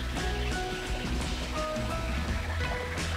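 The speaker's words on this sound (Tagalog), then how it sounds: "Waterfall!" A waterfall in Nan Lian Garden rushes with a dense, steady roar of splashing water, close and continuous.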